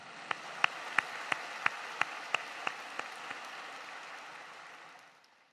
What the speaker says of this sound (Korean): 주님께 영광의 박수 다시 한번 올려드립니다.